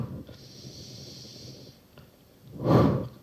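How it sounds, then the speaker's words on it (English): Deliberately exaggerated breathing during a no-equipment Pilates workout: a long hissing exhale into a close microphone, a pause, then a loud forceful breath burst near the end. "I'm breathing really over-exaggerated here on the mic so you can hear me."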